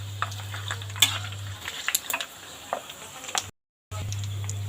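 Pork crackling sheets deep-frying in a pot of oil, giving a soft, steady sizzle with scattered light crackles and clinks under a low hum, briefly cutting to silence near the end.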